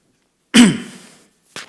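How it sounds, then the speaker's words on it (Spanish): A single sharp cough bursts out close by during a talk, its rough tail fading over about half a second, then a shorter second cough follows a moment later. "Perdón por la tos."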